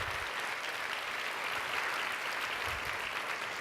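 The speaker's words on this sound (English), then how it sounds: "Let's give a big round of applause for the servers who provided us lunch." A conference audience at a lunch keynote session claps steadily, an even wash of applause heard at moderate volume with no voices.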